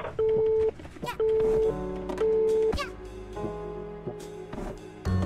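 A phone in the video game A Hat in Time rings in repeated tonal bursts, two loud electronic ring pulses followed by softer chiming notes mixed with game music.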